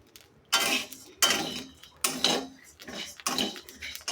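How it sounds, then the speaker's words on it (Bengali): Close, sharp bursts of crackling and popping come in quick succession as rice dry-fries in a pan, with little or no talking. "তো সুন্দর শব্দ, দেখেন টেস্ট করে ফুটে"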